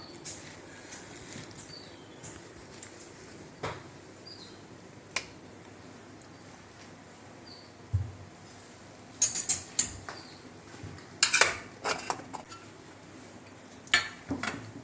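A cooking pot is opened after half an hour of cooking, heard as scattered close metallic clinks and clatters of the lid and vessel, clustered in a busier burst later on against a quiet background.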